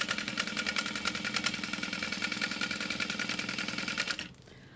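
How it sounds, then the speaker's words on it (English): A sewing machine stitching clear vinyl runs steadily at a fast, even buzzing rhythm for several seconds, close and loud, then stops abruptly near the end. "A lot of extra concentration when sewing with clear vinyl"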